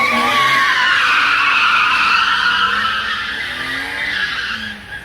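BMW M3 being hooned with a sustained, loud tire squeal and skid over engine roar, steady for most of the stretch before easing slightly toward the end; no talking.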